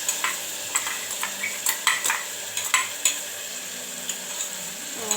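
Onion, tomato and garlic paste frying in a pan, a steady close sizzle with repeated scraping stirs of a spatula against the pan, no one talking.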